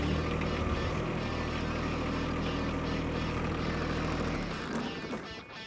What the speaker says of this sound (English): we're going to start the tractor up, lower the bracketry down, and we're going to back away from the snow blower.